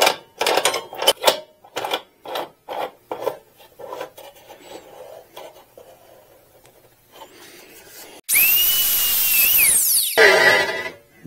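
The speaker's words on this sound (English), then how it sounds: "I got a cutoff wheel right there." A Harbor Freight cutoff wheel grinds through a stock motorcycle exhaust pipe: loud, harsh, high-pitched screech of abrasive on metal for about two seconds, following a series of scraping, rasping strokes.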